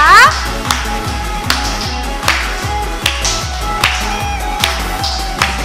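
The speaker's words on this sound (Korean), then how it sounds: "박수 치면서 주님을 찬양합시다." A church congregation claps in a steady, even rhythm along with worship music during a youth service. The claps sound loud and close over a pulsing bass line.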